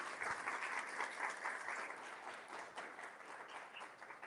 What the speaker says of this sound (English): So please give a round of applause for Todd Camp.